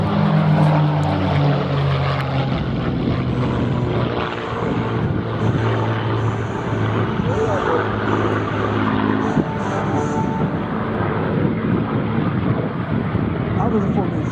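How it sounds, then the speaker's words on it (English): Three P-51 Mustangs with Merlin engines roar past in formation at an airshow, a sustained throaty propeller drone that swells and shifts in pitch, with a voice talking over it. "the music of the Merlins in the P-51 Mustang."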